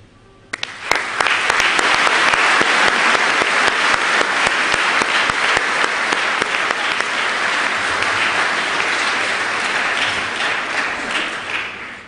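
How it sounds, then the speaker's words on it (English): An audience at a University of Leeds graduation ceremony applauds the teachers. The large, sustained round of clapping fills a big hall, rising quickly and holding steady before easing off near the end. "I'm sure, like me, you'll want to applaud them now"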